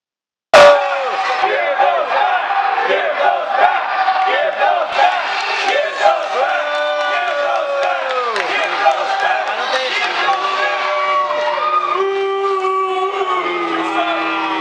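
A wrestling crowd at an NXT show in Sanford, Florida roars and chants after a sharp slam. The sound is loud and sustained, a tonal mass of many voices that carries on throughout.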